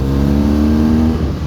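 A BMW R1200 GS Adventure motorcycle accelerates out of a curve in third gear, its boxer engine giving a loud, close, steady low-pitched drone that climbs slightly in pitch.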